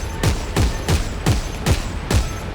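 Six heavy gunshots ring out in Dead Space 3, evenly spaced about half a second apart, each a loud booming crack with a falling low thump.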